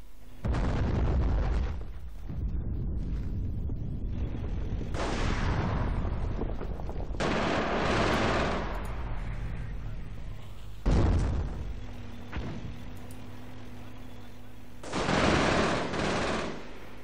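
Machine gun and mortar fire erupt in the Company of Heroes Blitzkrieg World War II strategy game, heard as loud, dense bursts of rattling gunfire and booming blasts. They come in repeated waves separated by brief quieter stretches, with a faint voice beneath.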